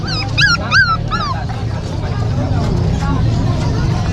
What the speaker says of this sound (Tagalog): Mga tuta.